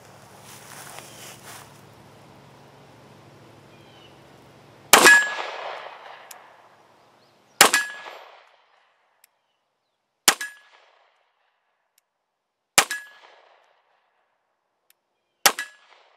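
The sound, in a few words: CZ P-10 C pistol shots hitting steel targets at range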